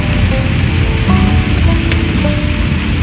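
Steady, loud rain keeps up a constant hiss and patter throughout, with no break in the wash of sound.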